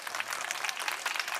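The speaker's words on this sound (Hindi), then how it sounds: "तालियों से स्वागत करें" An audience at a school annual day function applauds to welcome a guest, with steady, fairly faint clapping from many hands in a hall and no one speaking.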